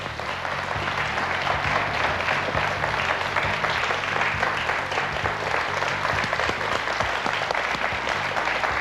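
A game show studio audience on Questions pour un champion gives a standing ovation, with loud, dense, sustained applause that holds evenly throughout.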